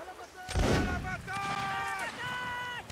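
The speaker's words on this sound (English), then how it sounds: "Keep shooting them, boys." A loud musket volley booms out in a Napoleonic Waterloo battle game at Ligny, followed by rumbling crackle and scattered shots while someone shouts orders over it.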